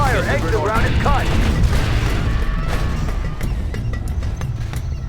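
Heavy gunfire and booming explosions fill a Command & Conquer Generals battle, a steady loud barrage throughout, with unit voices briefly audible at the start.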